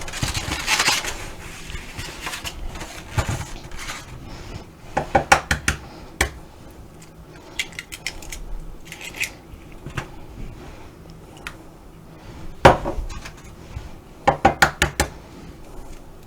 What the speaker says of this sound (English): I'm going to add 3 eggs.